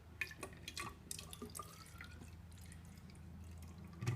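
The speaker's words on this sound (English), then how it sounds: "I'm just going to add the water in here." Deionized water being poured into tied-off dialysis tubing for a home osmosis experiment; soft, close dripping and splashing trickles, quiet and steady, with no talk.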